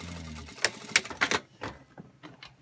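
A Singer industrial sewing machine stitches fabric in a few short bursts, with clicking mechanical taps and a brief whirring hum in a quiet room.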